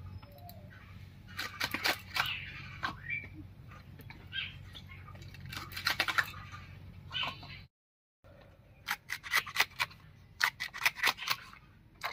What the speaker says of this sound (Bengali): এবার শাকটা কেটে নিচ্ছি।